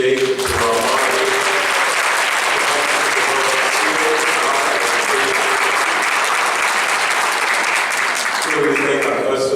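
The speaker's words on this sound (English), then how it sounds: "So can we first give a round of applause and appreciation to our moderators." A room full of attendees at a school board candidate forum claps for the moderators, a steady dense wash of applause lasting throughout before easing near the end as a voice returns.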